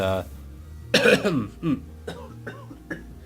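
A single sharp cough bursts out close by, trailing into smaller throat and vocal sounds and a few faint later coughs.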